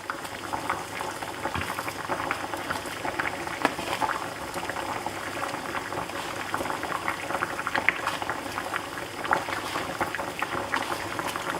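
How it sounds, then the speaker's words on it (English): New potatoes boil in a pot with a steady, close bubbling and popping that continues without pause, with no talk over it. "So I got my new potatoes on to boil"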